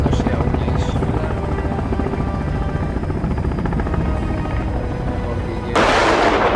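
Helicopter approaching an island in the video game Sons of the Forest: a steady, loud rotor drone with engine rumble runs throughout, with a sudden burst of wind-like rushing noise near the end.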